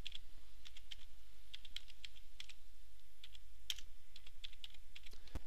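Typing a test project name on a computer keyboard in a quiet room, light irregular key clicks spread over several seconds against a low hum, no speech.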